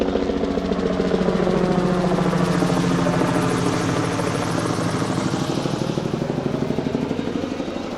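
Aircraft near an airport beside a campsite in the Yukon, a loud, steady rotor-like thrumming close overhead that holds for several seconds, with no voices.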